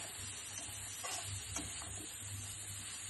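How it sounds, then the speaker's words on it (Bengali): Dried fish (shutki) frying with garlic, onion and mixed vegetables, giving a quiet, steady sizzle with a few soft scrapes of stirring. "এরপর শুটকি দেওয়া হয়েছে। এবার ভালোভাবে এটাকে নাড়াচাড়া করা হচ্ছে"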